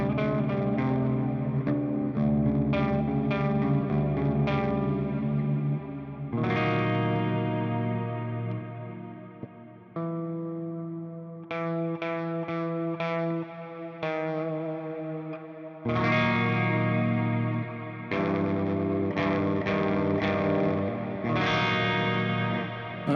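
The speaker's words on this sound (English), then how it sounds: "for the clean channel, I have the Black Hole plugin, so we have some ambiance and reverb." Electric guitar played clean through a Black Hole reverb plugin, chords and notes ringing out with a spacious reverb tail, steady and fairly loud with brief pauses between phrases.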